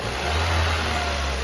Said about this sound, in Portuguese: Agora, se você acelerar o motor,